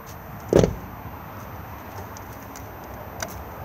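The gas locker hatch on an Auto-Trail Chieftain motorhome is released and opened outdoors, giving a single close, solid clunk followed by quiet ambient background and a faint tick near the end.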